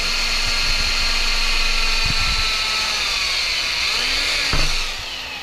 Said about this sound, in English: this trick of just drilling a hole through it